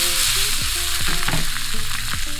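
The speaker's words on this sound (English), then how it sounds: "In the same pan, I'm gonna go ahead and add my baked beans, just to warm them up a little bit." Baked beans warm in a frying pan, giving a continuous close sizzle with brief stirring scrapes over the bubbling.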